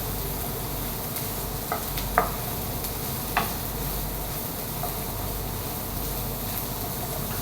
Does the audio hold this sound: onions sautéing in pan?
yes